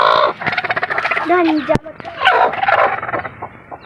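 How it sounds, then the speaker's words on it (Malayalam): Chickens cluck and squawk close by in a busy jumble of calls, with one brief sharp knock partway through. "കുറേ കോഴികളുണ്ട്"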